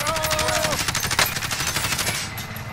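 Automatic gunfire in Call of Duty Warzone quads play: rapid, loud, continuous bursts of shots fill the clip, with faint game effects underneath.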